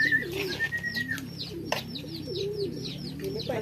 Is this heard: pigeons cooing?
yes